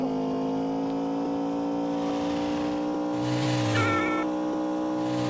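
A car in the Indian Theft Auto simulator video game drives fast with a steady, droning engine tone, and a brief burst of rougher, tire-like noise rises partway through. No voices are heard.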